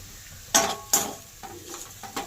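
Mashed cauliflower leaf paste stirred in a pan, with a utensil scraping in a few crisp close strokes over a faint sizzle and no talking.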